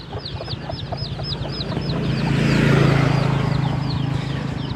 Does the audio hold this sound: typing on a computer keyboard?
no